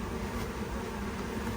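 Honey bees buzzing at an open hive, a continuous dense hum that stays even and moderately loud, with no voices.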